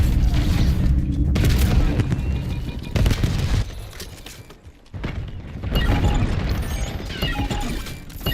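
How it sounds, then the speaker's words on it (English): A grenade explosion in the Call of Duty: Black Ops 7 beta, heard as loud booming blasts mixed with gunfire and crashing debris in a busy multiplayer firefight. "Incoming fire. Hostile grenade."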